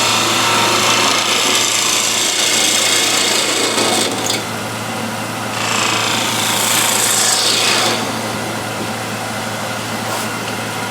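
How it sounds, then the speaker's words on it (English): A skew gouge trues up the face of a wooden piece spinning on a woodturning lathe, a loud continuous scraping and hissing cut over the lathe's steady hum, easing and returning as the tool shifts. "So the first thing is to true up the face here. I'll be using this skew gouge."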